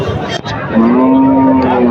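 A large cow at Pangachhi village cattle market gives one long, loud, steady moo close by, after a brief bump and some background market noise.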